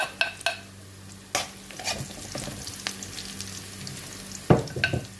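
Whole peppercorns and chili sautéing in a pan with onion, garlic and ginger, giving a steady close sizzle broken by several sharp scrapes and clinks of a utensil stirring against the pan, with a busier clatter near the end.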